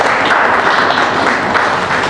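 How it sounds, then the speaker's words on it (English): Loud, continuous audience applause at a Port Harcourt seminar, many hands clapping in a dense, even wash without pause. "let's just give Clevenard.com some round of applause"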